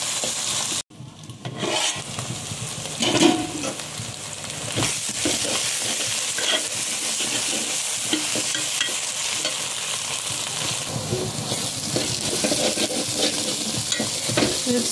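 Onions and green chilies fry in a pan for a fish curry, a steady close sizzle with occasional stirring scrapes, continuing without talk.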